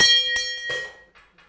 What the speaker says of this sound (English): What happens if I ring the bell?